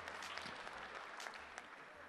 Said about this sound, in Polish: No, i to są brawa.